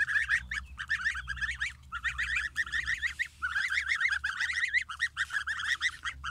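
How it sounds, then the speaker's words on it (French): Young domestic goslings peep and honk in a busy, continuous chorus of overlapping calls, close and fairly loud, with a low steady hum beneath and no talking. "là il y a les oisons. Ils ont grandi hein, depuis."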